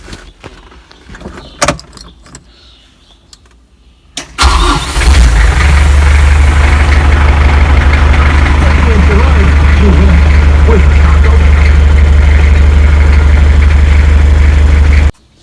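A Kubota tractor engine cranks over and catches after a few handling clicks and knocks, then settles into a loud, steady, close diesel idle that runs to the end.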